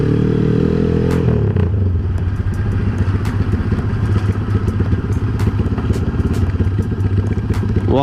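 A motorcycle fitted with a mini carburetor revs briefly, then drops into a loud, close, steady idle with a rapid, uneven pulsing beat and light mechanical clatter.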